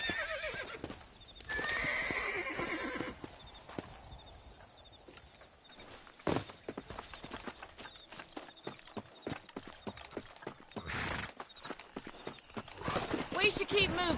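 Horses in Red Dead Redemption trot along with steady clip-clopping hooves, one whinnying, under a man's speech and game sound, the hoofbeats close and rhythmic.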